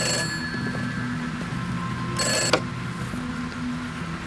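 A telephone rings once in a quiet room, a short bright electronic trill over a low steady hum.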